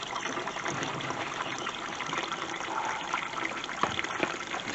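Gasoline runs in a steady trickle from a leaking float valve on a Craftsman lawnmower into a glass jar, a continuous close liquid splash and dribble with no talking.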